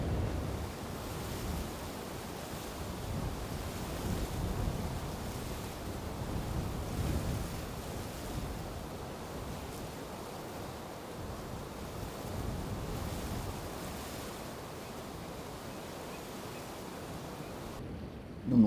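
Rough indigo sea breaks and churns against smooth and jagged coastal rocks in a steady, continuous wash of surf that rises and falls in soft surges, with a breezy hiss across the microphone.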